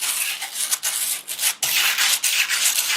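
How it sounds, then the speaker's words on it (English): An old wire brush scrubs dirt from a century-old wooden French farmhouse table in close, loud, raspy back-and-forth strokes with brief pauses between passes. "So first I take an old wire brush and just slowly go back and forth."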